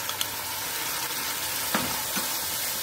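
Tomato and onion paste with spices sizzles in a pan of oil while the masala for stuffed dum aloo is fried. It makes a steady, moderately loud hiss with a couple of faint stirring clicks.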